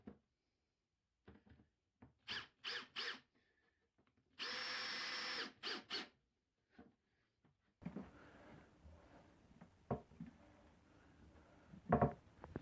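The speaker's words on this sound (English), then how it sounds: "it's time to fit the hinges, and I simply pre-drilled, countersunk and screw these on" A power drill pre-drills and drives screws to fit hinges onto a wooden wall cabinet in a workshop: short whirring bursts and one longer sustained drill run, with scattered taps and handling clicks between them.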